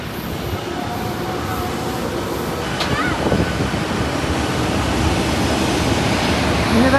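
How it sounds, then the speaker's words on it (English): A seaplane's jet engine starts up in Norway, a broad loud roar that builds gradually, with a faint rising whine partway through and a low rumble beneath, continuous for several seconds. "That's the jet starting."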